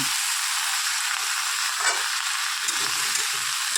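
Tomatoes and green chillies frying in hot oil with spices, a steady loud sizzle throughout with faint stirring scrapes and no talk.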